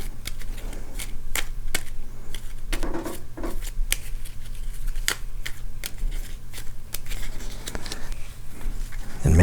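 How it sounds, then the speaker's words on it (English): A deck of cards is shuffled for a tabletop game, a steady run of rapid papery riffles and snaps lasting throughout, close and clear over a low hum, with no talking. "I'm going to shuffle the deck again"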